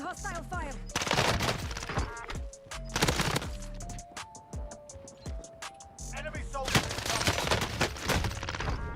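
Rapid bursts of CX-9 submachine gun fire in the Warzone video game, sharp repeated shots in clusters mixed with other game effects, while players talk over the action.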